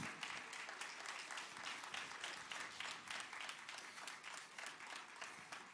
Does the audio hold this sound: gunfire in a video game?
no